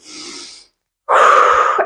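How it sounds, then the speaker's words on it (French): Nasal inhalation during a yoga barre class: a soft breath for about half a second, a pause, then a louder, fuller breath drawn in close to the microphone. "Inspire par le nez et expire par la bouche."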